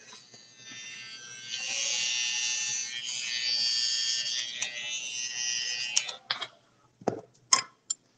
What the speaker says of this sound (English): Now I'm gonna go through with my foil shaver and just bring up a little bit.